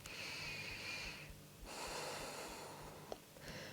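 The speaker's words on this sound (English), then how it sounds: "Now I'll invite you to start breathing in and out through your nose" Slow breaths drawn in and let out through the nose during a calm beginner yoga class, two long soft airy passes with a brief pause, close and quiet with no talking.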